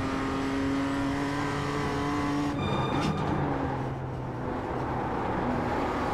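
A BMW race car in a sim racing video game drives with a steady engine drone and strong harmonic whine throughout. Around the middle it shifts and revs, then returns to a continuous hum, loud and close.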